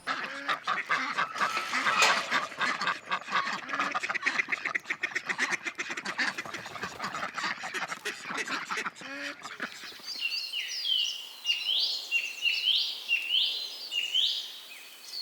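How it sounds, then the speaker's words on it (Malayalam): Ducks and geese on a farm give a busy chorus of quacks and honks, near and fairly loud. A run of rapid clucks and rustles gives way to repeated honking calls in a clear rhythm. "കോഴികളുണ്ട് താറാവുണ്ട് വാത്തകളുണ്ട്"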